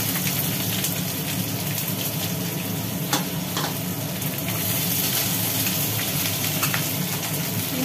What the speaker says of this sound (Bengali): এদিকে পেঁয়াজটা ভাজি হচ্ছে